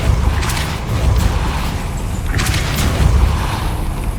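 A Depulso spell in Hogwarts Legacy lands as a loud, booming whoosh, with a couple of sharp bursts riding over a rumbling low-end swell.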